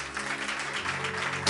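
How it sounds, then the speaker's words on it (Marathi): A church congregation claps at a Marathi sermon, steady rhythmic applause filling the short moment at moderate loudness, with no speech over it. "जरा जोरदार टाळ्या प्रभू."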